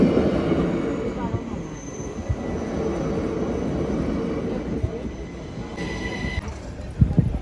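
A train rolls past a railway crossing near Bregenz lake in Austria, a continuous close rumble of wheels on track with a brief high squeal partway through.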